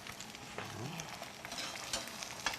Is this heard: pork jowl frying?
yes